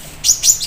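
A male cucak cungko or murai air songbird chirps three quick bright notes in a row, close and clear over faint background hiss.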